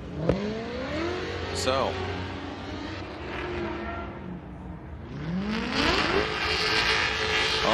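Two Toyota GT86 cars battle in a Formula Drift competition in Texas, engines revving and wailing with rising and falling pitch, loud bursts and a pass-by sweep, under a commentator's voice.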